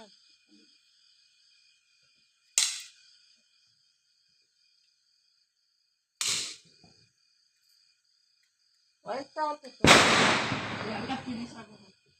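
Small firecrackers burst during Diwali celebrations: sharp isolated cracks at spaced intervals, then a quick cluster of pops ending in a louder, longer crackling blast.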